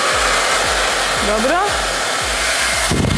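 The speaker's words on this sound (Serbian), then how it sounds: "Znači, ja imam najseksi fen na svijetu." A hair dryer blows loudly and continuously at close range, with a rhythmic pulsing hum and a brief voice over it.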